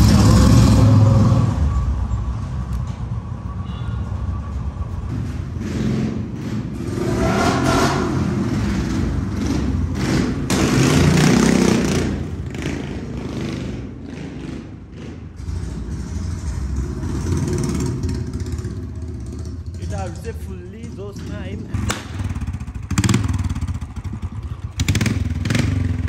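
A motorcycle with no silencer starts and revs, a loud, rough unmuffled engine surging up and down in repeated bursts with clattering throughout.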